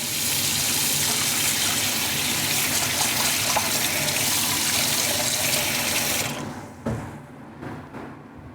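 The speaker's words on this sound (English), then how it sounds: "All right, so we're gonna add some water." Water gushes steadily from a tap into a bowl for bagel dough, a loud continuous rush heard up close that cuts off near the end, leaving a few faint clinks and a quiet room.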